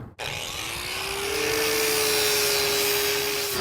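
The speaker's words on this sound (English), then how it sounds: "Finnegan went and bought an angle grinder and is taking it to school right now" An angle grinder spins up and grinds a mini spool in a hotel parking lot, a loud continuous whine with a rising then steady pitch, close and harsh throughout.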